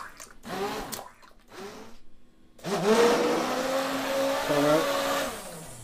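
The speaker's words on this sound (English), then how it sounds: "Basically, you're blitzing the parsnip and making them smooth." Blender whirring steadily as it purées parsnips into a spicy organic soup, starting in short pulses and then running continuously at a loud, even pitch.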